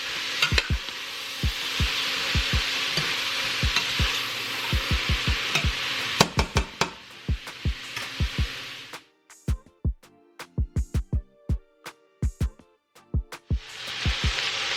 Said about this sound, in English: I want this cabbage to really like get a fry on it